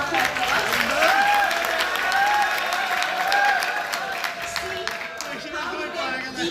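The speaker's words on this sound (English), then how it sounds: "Give them a big round of applause" An audience applauds two boys from Kashmir at a grip technique demonstration, with steady clapping throughout as someone speaks over it.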